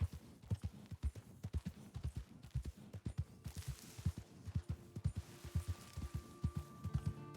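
A horse's hooves clip-clop at a steady walking gait in the Red Dead Online game, with many close, distinct thuds in a regular rhythm and no talk over them.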